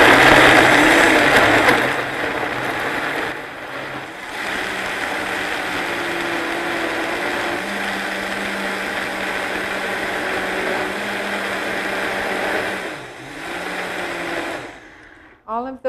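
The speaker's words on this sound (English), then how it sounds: "I'm going to put just a little bit of water in here to run the blender because these are really juicy" A blender whirs through juicy fruits with a little water, a loud steady motor drone that shifts in pitch as the load changes over about fifteen seconds before cutting off near the end.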